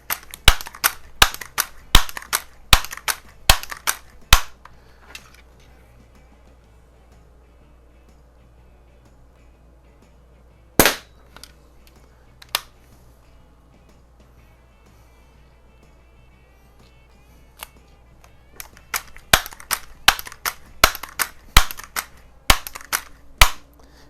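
Daisy model 922 .22 caliber multi-pump pellet rifle firing, a series of sharp, close cracks in quick bursts, then a long quiet stretch with one or two isolated shots, then more rapid clicks and pops.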